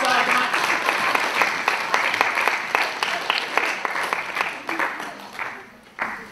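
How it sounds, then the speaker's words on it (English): A group audience claps together at a tourism training session, a dense, steady patter of many hands that carries on for several seconds before thinning out near the end. "So give Arnie Brenda a big clap of yarning up a storm, mate."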